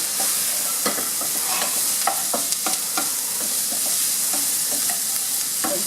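Tomato frying in a pan with browning onions makes a steady, close sizzle throughout, broken by frequent soft scrapes and taps of stirring, with no voices.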